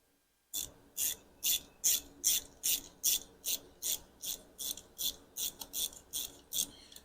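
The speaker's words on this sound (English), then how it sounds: "So I'll start just with a regular ratchet." A 10 mm ratchet clicks through repeated short strokes while tightening on a Harley-Davidson Softail clutch, about fifteen crisp, evenly spaced bursts of pawl clatter, close and clear after a brief silent start.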